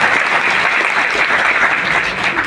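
Audience applause at a talk, a dense sustained wash of clapping from a crowd, loud and steady throughout with no pauses.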